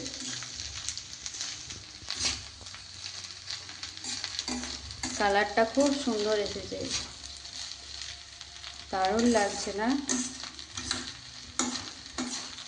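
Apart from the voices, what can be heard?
leftover rice being stir-fried in a pan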